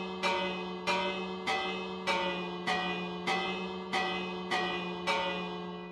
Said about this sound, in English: OP24, I said quit ringing that bell!